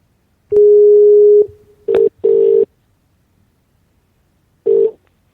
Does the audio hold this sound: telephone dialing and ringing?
yes